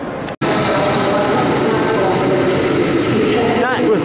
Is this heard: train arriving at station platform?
yes